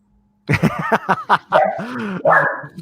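A dog barking close by, a quick run of sharp yips and barks followed by longer whining, yowling calls, loud and without talk.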